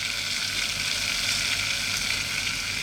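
Flour stirred into melted butter over low heat for a roux sizzles in a pan, a continuous, even hiss that stays fairly loud and close throughout.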